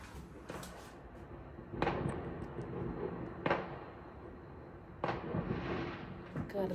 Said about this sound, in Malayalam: മൊത്തത്തിൽ പടക്കം പൊട്ടിക്കൊണ്ടിരിക്കുക.